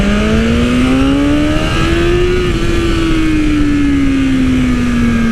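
A 2020 BMW S1000RR motorcycle accelerates hard in first gear, its engine note loud and close, climbing steadily and then easing slightly under strong wind rush, with no talk.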